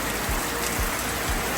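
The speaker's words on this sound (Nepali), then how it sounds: "भीषण ठुलो वर्षा भइरहेको छ यहाँ टुबु डाँडामा" Heavy rain pours down steadily on a mountain ridge at Tubu Danda on a trek near Pokhara, a dense, even hiss that fills the whole moment with no voices.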